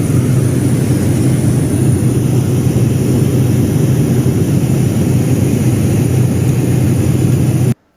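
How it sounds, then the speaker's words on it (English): A Chinese fighter jet flying close to a Philippine Air Force plane over the Philippine Sea, a loud, steady, unbroken engine roar heard from inside the cockpit, cutting off abruptly at the end. "So that's the Chinese fighter jet as filmed from the cockpit of a Philippine Air Force plane."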